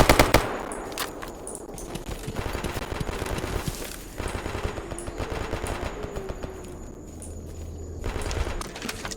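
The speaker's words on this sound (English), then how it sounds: "Are we really shooting zombies at a time like this?" Rapid automatic gunfire from shooting zombies in the game Escape From Pripyat, sustained bursts of machine-gun fire with brief pauses, loud and close, with no talking.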